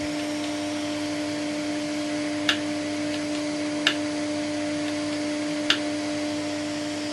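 A workshop vacuum drawing air through a router table runs as a steady, fairly quiet whooshing hum with a constant tonal drone, broken by three sharp little clicks.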